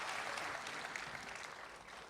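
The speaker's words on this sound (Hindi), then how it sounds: "एक बार और जोरदार तालियों के साथ स्वागत करिएगा" An audience at a Hindi-Urdu literary gathering in Dubai claps to welcome Dr Suman Dubey, a steady, rather faint patter of many hands lasting a couple of seconds.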